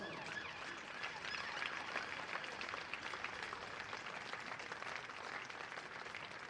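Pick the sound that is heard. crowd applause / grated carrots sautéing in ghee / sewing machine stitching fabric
crowd applause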